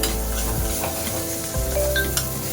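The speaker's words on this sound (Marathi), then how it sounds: "फक्त कांदा आता फ्राय झालेला" Onion fries in a pan for a homemade pizza topping, with a continuous close sizzle broken by stirring scrapes and a light clack of the spoon against the pan.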